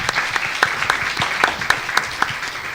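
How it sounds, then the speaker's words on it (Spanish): Audience applause for presenters at a colloquium on community child behavior modification, a steady dense clapping from a crowd with a few sharper individual claps standing out, sustained throughout without talk. "Un fuerte aplauso para ellos"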